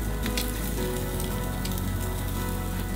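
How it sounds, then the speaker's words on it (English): Steak sears on the hot grates of a Weber Genesis II gas grill, giving a loud, steady, close sizzle that runs unbroken throughout. "That's the searing sound we're looking for."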